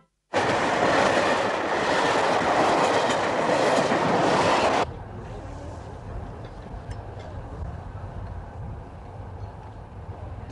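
The Orient Express runs on rails with a loud, steady rumble and rhythmic clickety-clack for several seconds, then drops abruptly to a quieter, muffled interior drone.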